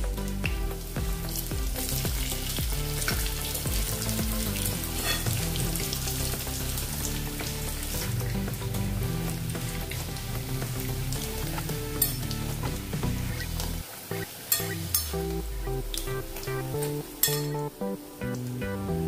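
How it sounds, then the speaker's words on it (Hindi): Bread rolls deep fry in hot oil over a medium gas flame, giving a loud, continuous sizzle with occasional light clinks of a utensil against the pan. "अभी ये अच्छे से तल गए हैं।"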